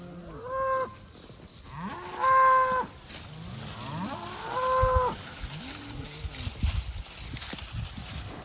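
Cattle moo in a series of loud, drawn-out calls close by while working dogs herd the cows out, with some rustling and hoof movement between the calls.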